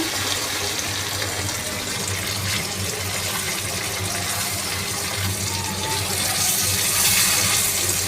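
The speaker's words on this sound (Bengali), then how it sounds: "এখন একটু পানি দিয়ে দেব।" Water pours steadily into a pan of simmering rohu fish curry, a continuous close gushing splash that swells slightly toward the end, with no talking.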